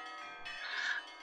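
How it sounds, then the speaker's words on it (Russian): Church bells ring at a restored church, a sustained metallic tone swelling and fading over about a second, moderately loud with no talking. "У нас разговор начинается прямо под колокольный звон."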